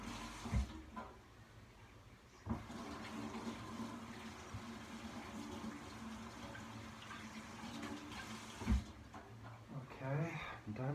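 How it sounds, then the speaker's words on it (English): Water runs from a tap while hands rinse beneath it, a steady close splashing wash with a few bumps and clunks, and a voice talks over part of it. "Nearly done, just rinsing."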